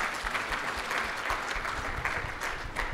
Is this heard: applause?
yes